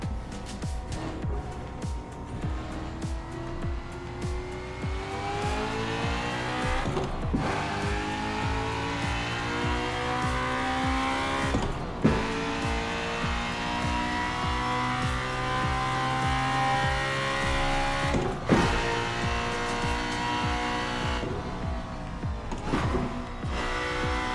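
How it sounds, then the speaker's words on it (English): A car, apparently an SUV, driven at about 160 miles an hour and understeering into a slide, with a steady loud engine drone, shifting pitch and tire scrub over most of the stretch, broken by a few brief gear changes. "Yeah, a lot of understeer. It just slides."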